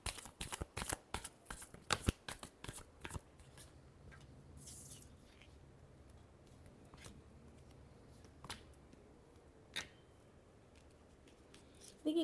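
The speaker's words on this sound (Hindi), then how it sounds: "Last shuffle." A deck of tarot cards is shuffled by hand close up, with quick crisp riffling bursts packed into the first few seconds, then sparser faint flicks and taps in a quiet room.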